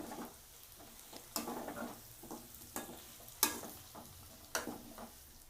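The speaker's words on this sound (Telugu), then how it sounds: "కొంచెం సేపు ఫ్రై చేసుకోవాలి" Village-style chicken fry cooks in a pan, a faint low sizzle broken by several sharp scrapes and clinks of a spoon stirring against the metal, close and quiet with no talk.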